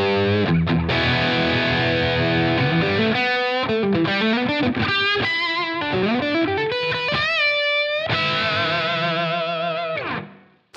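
Electric guitar played through a Line 6 Helix Placater Dirty amp preset with no EQ, giving a distorted, effects-laden tone: sustained chords and then a run of sliding, bending lead notes, loud and continuous, cutting off near the end.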